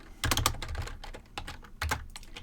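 Keys clatter on a computer keyboard in quick bursts, close and crisp, with a short pause between two runs of typing.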